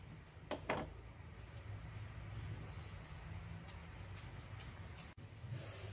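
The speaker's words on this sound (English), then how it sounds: "Another example is this perfume, and I'm gonna spray it." A few short hissing perfume spray bursts, fairly close, over a low steady background rumble; two bursts early and several quicker ones later.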